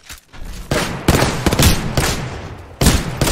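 Hemlock burst rifle fire in the shooter game Apex Legends: sharp, loud volleys of rapid shots in several clustered bursts with short pauses between, alongside other game combat noise.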